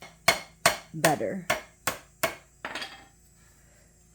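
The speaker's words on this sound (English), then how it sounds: "it says to use at least 8 hits of the hammer, which probably helps the rivet seat" Hammer blows drive rivets into a broken baler belt: six sharp, evenly spaced metallic strikes, then a seventh softer knock, all close and loud, with a brief word spoken partway through.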